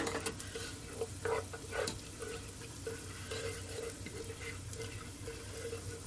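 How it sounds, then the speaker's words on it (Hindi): Sauce ingredients sauté in a pan for orange chicken, giving a steady close sizzle with occasional stirring scrapes and clinks throughout, no voices. "ये मेरा सौते हो रहा है, आप देख सकते हैं"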